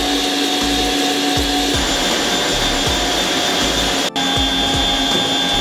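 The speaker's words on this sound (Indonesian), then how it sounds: "Kalau di mixer saya mengocok adonannya hanya 5 menit." Electric mixer beating batter for a rolled lapis legit layer cake: a loud, steady motor whine runs throughout with a rhythmic churning pulse and one brief dropout, and no talking.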